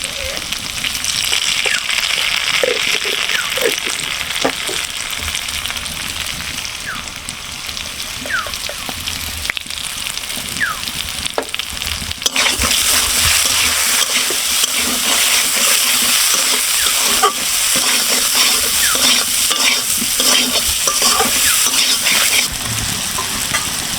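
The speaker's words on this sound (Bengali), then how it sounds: "আমি আলুগুলো সুন্দর করে ভেজে নিয়েছি।" Potatoes fry loudly in a pan with salt and turmeric, and a spatula stirs them with repeated scraping clinks over a constant hiss. The sizzle swells brighter midway and stays strong to the end with no talk.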